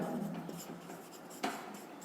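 Chalk or marker scratches across a board during a maths lecture on determinants, a short close scraping stroke with a sharper tap partway through, with no talking over it.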